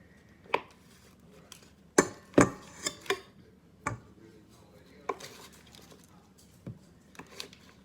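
Knife chopping food into chunks on a board while making raspberry bars with a crumbly top: about ten sharp, irregular taps, some clustered closely together, with quiet pauses between.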